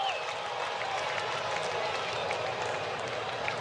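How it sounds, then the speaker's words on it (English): Dense crowd noise and scattered clapping fill a baseball stadium at a New York Mets vs Atlanta Braves postseason game, a steady wash without a sharp peak; no clear talking. "this crowd has been like a Sunday church crowd"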